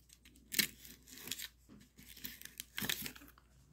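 Packing tape is pulled off and torn from a package in several sharp, crackly rips with short pauses between them, close and fairly loud, with no talking.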